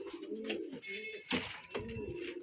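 Pigeons in a loft coo in low, throaty, rolling phrases, close and fairly loud, with a couple of brief breaks between calls.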